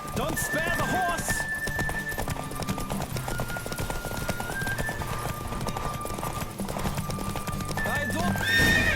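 Horse galloping and neighing in The Witcher 3 horse race, fast steady hoofbeats with clear whinnies over music, voices speaking now and then.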